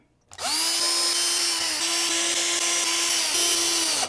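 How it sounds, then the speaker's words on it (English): A power drill drives screws back into a Jazzmaster guitar during a pickup installation, one continuous steady whine that holds for about four seconds, close and loud, with slight pitch dips as the load changes and no talking. "let's put some screws back in and call this good"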